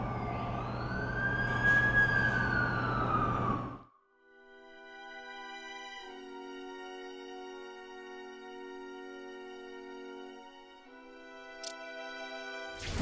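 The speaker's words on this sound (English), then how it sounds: "That's the ambulance I called." Ambulance siren from The Amazing Spider-Man 2 video game, a loud wailing sweep for about four seconds that then cuts off abruptly, giving way to sustained tonal game music.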